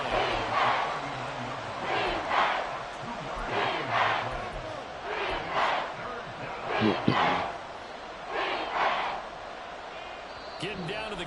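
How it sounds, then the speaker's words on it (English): Crowd roaring in a stadium during a tied EA Sports football video game with two minutes left, swelling in repeated loud surges, with a commentator's voice talking over it. "This crowd turning up the decibel level"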